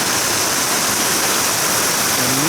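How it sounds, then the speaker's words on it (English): Rainwater pours steadily off a roof like a waterfall during a heavy rainstorm, a loud, continuous rushing roar with no pauses. "A nice waterfall."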